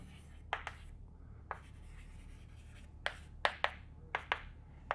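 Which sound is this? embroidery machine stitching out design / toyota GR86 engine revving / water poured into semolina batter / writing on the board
writing on the board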